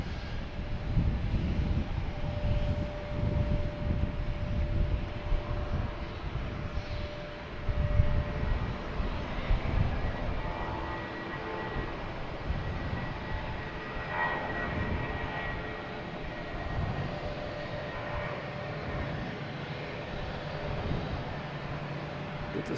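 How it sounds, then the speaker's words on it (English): A Southwest Airlines plane landing at Boston Logan Airport produces a loud, continuous jet engine roar and rumble that swells early, then eases into a steadier, slightly fading drone over about twenty seconds. "Get the Southwest landing here."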